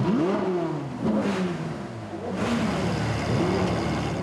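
At a funeral in Savoie, members of a car club rev their engines together, with several loud rising and falling revs overlapping close at hand.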